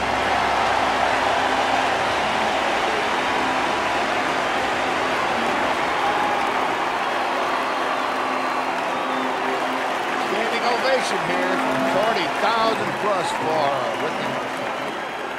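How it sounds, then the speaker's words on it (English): Stadium crowd roaring and applauding for right fielder Rick Ankiel as his name is announced, a dense, sustained wash of cheering and clapping filling the whole stretch with swelling whistles near the end. "Now let's listen to the crowd when Ankiel is announced."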